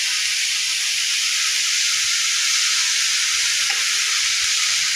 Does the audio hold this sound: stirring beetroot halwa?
yes